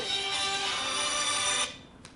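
Mobile phone ringtone plays as a bright, harmonic electronic tone, fairly faint and steady, then cuts off abruptly, leaving near silence.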